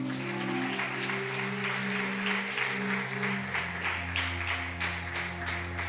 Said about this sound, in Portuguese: Você pode aplaudir bem forte o nome dele